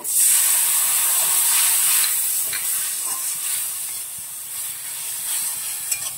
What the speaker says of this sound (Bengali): এর মধ্যে আমি আদা ধুয়ে রাখার যে জলটা ছিল সেটা এর মধ্যে ঢেলে দেবো